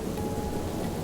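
Steady, dense rain falls in an even hiss with a full, soft rumble underneath, close and unbroken, used as a storybook sound effect.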